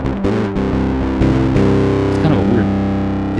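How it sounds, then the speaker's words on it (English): Heavily distorted electric guitar chords through a DOD Supra Distortion pedal ring out loud, busy and sustained, with a few chord changes and a sliding note near the end. "Busy distortion. It's got that sound you don't really want."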